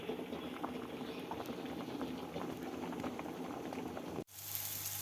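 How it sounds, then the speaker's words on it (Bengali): Rice boiling in a cooking pot, a steady close bubbling and rolling simmer throughout that cuts off abruptly near the end. "এদিকে ভাত ফুটে উঠেছে।"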